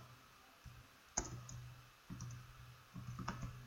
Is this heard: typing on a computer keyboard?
yes